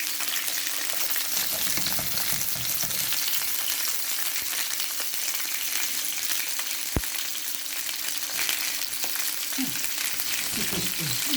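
Steady hiss and crackle of stuffed peppers frying in a hot pan, continuous throughout, with a sharp tap and faint voice near the end.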